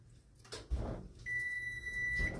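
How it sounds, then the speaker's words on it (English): A steady high electronic beep tone holds for about a second, following some rustling and a thump. "Yes, I hear you beeping at me."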